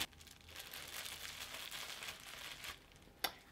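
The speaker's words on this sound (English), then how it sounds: "I'm just gonna put this up in a little plastic bag to keep it warm and toasty" Close, soft crinkling of a plastic bag rustles on and off for a few seconds, ending with a sharper crackle.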